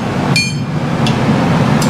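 A blacksmith's hammer rings on metal during bladesmithing, three bright, sharp strikes spaced under a second apart over a steady low roar of the forge.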